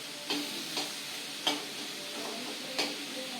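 Tomatoes for tomato pachadi sautéing in a pan: a soft continuous sizzle with evenly spaced spoon scrapes and taps, four or five distinct strokes, close and moderately quiet.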